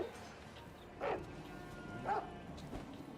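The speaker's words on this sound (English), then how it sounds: "so these dogs came back" Two short, fairly faint dog barks about a second apart in a video game, followed by a softer yip, over low background sound.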